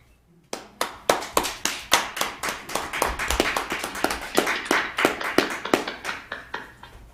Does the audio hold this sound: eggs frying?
no